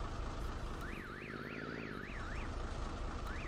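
The reversing alarm on a Lizard T vehicle in Farming Simulator 19 gives a steady, rising-and-falling electronic warble. It repeats rhythmically over a constant low engine drone.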